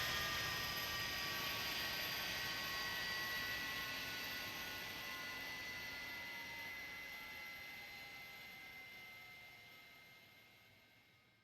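A Milviz Porter aircraft touches down gently in a flight simulator game. A faint, steady engine whine and airflow hiss slowly fade away.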